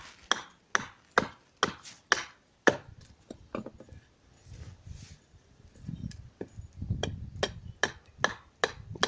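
Axe blows splitting a log on a chopping block to make a spoon billet: a rapid series of sharp, loud wooden chops, then a quieter stretch of softer knocks and handling before the strikes resume in a steady rhythm.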